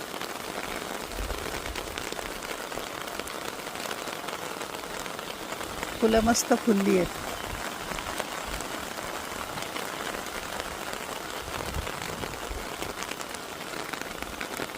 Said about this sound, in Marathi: रात्रभर पाऊस चालू आहे.